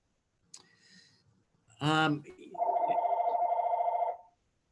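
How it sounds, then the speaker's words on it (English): A mobile phone rings in a room during a meeting: a steady, rapidly pulsing electronic tone lasting about a second and a half, preceded by a short burst of voice and faint background sounds. "Somebody's phone's ringing there"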